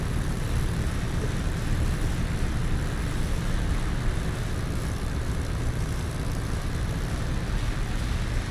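A Mosquito warbird taxiing on a runway in the DCS flight sim, a steady, droning propeller-engine rumble that stays constant and near throughout, with no talk.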